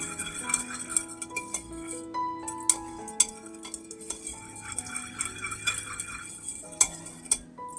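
A spoon stirs powdered mishri sugar into water with a pinch of yellow color to dissolve it, giving close, irregular clinks and scrapes against a vessel, quiet and alone without talk.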